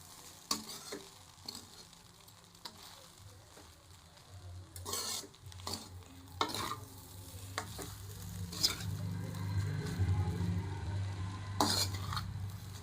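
Egg fried rice being stirred and fried in a pan, with repeated scraping and clinking strokes of a spatula against the metal over a low sizzle that grows louder toward the end, close and without talk.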